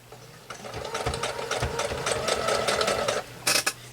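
A sewing machine stitches quilt sashing with its needle running over pins, a fast steady whir that lasts about three seconds before a brief pause and a short final burst, close and clear with no talking.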